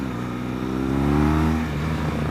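A 2018 BMW R1200 GS motorcycle accelerates hard into a wheelie. The engine note rises steadily as it revs up, loud and close with a throaty rumble, and no one speaks.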